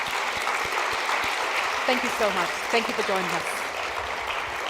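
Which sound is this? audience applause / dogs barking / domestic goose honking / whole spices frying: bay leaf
audience applause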